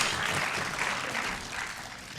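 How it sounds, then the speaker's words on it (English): An audience applauds a reverend at a talk on decluttering, steady clapping filling the short stretch without pause. "So can we give Reverend Tricia a round of applause, please?"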